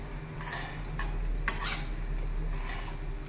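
Rice being stirred with salt in a pot while cooking yellow pulao, giving a soft, continuous scraping and rustling with a few brief clinks, close by and steady.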